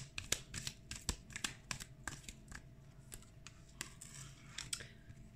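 Tarot cards are drawn and laid out one after another, giving quiet, crisp flicks and soft slaps of card on a surface in an irregular rhythm, close and faint.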